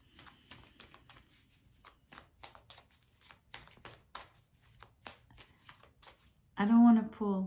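Tarot cards shuffled and drawn by hand: a steady run of crisp card flicks and slaps fills most of the stretch, ending with a short burst of close speech.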